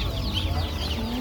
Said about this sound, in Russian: Тут много цыпляточек.